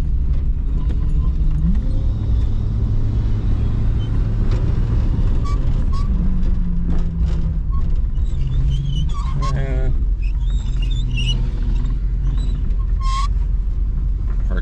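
A 1985 Ford LTD police package sedan with a 5.0 V8 pulls hard under acceleration, a loud sustained engine roar rising in pitch through the gears, with wind noise and a voice talking over it.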